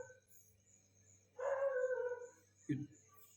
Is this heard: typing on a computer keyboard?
no